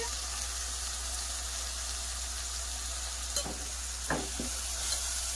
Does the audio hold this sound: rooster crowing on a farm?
no